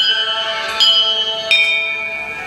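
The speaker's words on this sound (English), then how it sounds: "You can ring the bell again." A temple bell in the Krishna 3D Interactive Temple app rings twice in succession, each strike a bright metallic clang that lingers in a long, shimmering, sustained ring.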